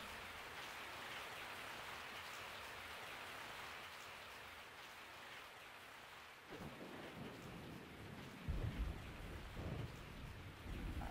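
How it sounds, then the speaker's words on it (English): Steady rain falls in Resident Evil 3 as a continuous hiss, with low rumbling thunder rolling in during the second half. "I woke up to the sound of falling rain."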